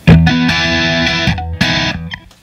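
Electric guitar played through an Analogman Prince of Tone overdrive pedal, two loud, thick, distorted strummed chords ringing out and then fading.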